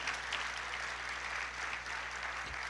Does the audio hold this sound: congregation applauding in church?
yes